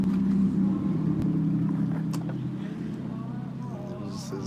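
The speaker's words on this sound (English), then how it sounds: "There's this loud car back there right now." A loud car idling nearby, a steady low engine rumble that eases slightly over a few seconds, with a person's voice briefly over it.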